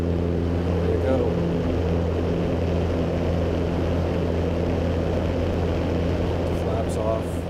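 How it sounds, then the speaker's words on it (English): Small propeller airplane with flaps set to 20 degrees on its takeoff run, engine droning loud and steady throughout with a broad, even roar. "Here I've got 20 degrees of flaps, take off at about 500-600 feet."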